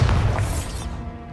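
A Bombarda explosion spell going off in the video game Hogwarts Legacy: a single heavy, close boom with a rumbling, crackling tail that fades over about a second.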